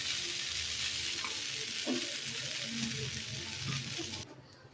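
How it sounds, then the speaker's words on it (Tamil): Crumbled bread frying in a little oil on a flat dosa pan, a steady close sizzle with scraping stirs that runs almost the whole time, then drops away near the end. "இப்போ நம்ம உதுத்து வச்ச ப்ரெட்டை நம்ம இதில் தோசைக்கல்லில் ஆட் பண்ணிடலாம்."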